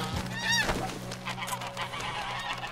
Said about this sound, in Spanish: Ganso canadiense.